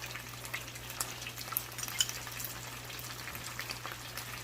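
Finely minced garlic frying in a pan for a honey garlic glaze for chicken thighs, giving a steady, soft sizzling crackle throughout at low volume, with a faint low hum beneath and no talking.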